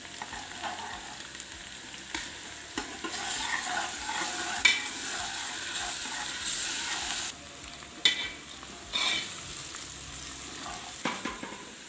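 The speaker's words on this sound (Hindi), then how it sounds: "प्याज को लाइट फ्राई करने के बाद अब हम इसमें ऐड करेंगे 1 टेबल स्पून जिंजर और गार्लिक का पेस्ट।" Ginger garlic paste frying with chopped onions in a pan, a continuous sizzle with repeated stirring scrapes and occasional sharp clanks of a spoon on metal.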